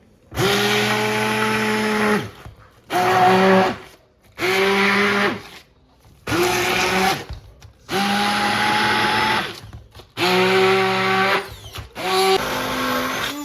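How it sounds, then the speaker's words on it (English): A blender on high speed purees pumpkin in about seven loud, whirring bursts of roughly one to two seconds each, separated by short pauses. "I'm just going to keep on blending until it's a smooth puree."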